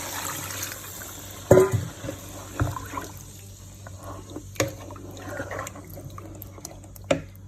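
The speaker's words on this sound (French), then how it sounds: "Là, je couvre d'eau." Water poured into a cooking pot for a Senegalese dish, a gurgling, splashing flow with a few louder sloshes and drips, moderately close with no talk.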